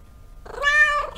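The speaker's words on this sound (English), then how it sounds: "You can pat the kitty." A cat in a horror video game lets out a single short, clear meow, close and alone in an otherwise quiet moment.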